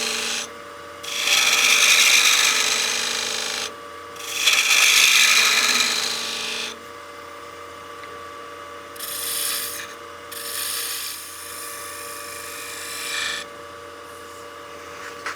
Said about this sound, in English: we're just getting rid of material here so we have room for that spindle gouge to make the cuts that we need